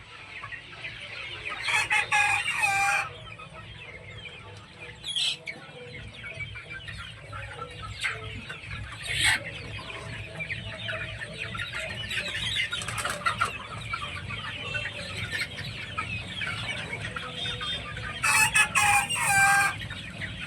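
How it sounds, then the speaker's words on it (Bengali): Two-month-old chickens on a small animal farm, steady close clucking throughout with a rooster's crow breaking in near the start and again near the end, no talk. "আর এই দেখো মুরগিগুলো,"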